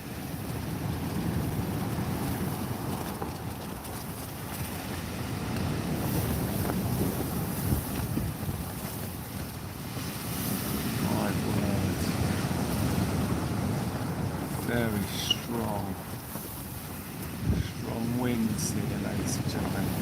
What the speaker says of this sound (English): Got the wind battering in the back of the shelter.